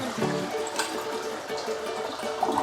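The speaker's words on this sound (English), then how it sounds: "Turning off the water, and I'm getting rid of the water by flushing it." A toilet flushing to drain its water during a bathroom floor tear-out, a steady rushing and trickling of water filling the whole stretch at moderate loudness.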